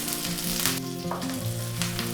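Curry leaves and slit green chillies crackle and sizzle in hot oil for restaurant-style chicken 65, a steady dense frying hiss running throughout with no talk over it.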